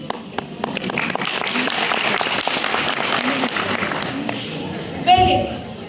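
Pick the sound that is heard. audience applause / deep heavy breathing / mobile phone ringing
audience applause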